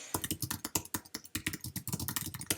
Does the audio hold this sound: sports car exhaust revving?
no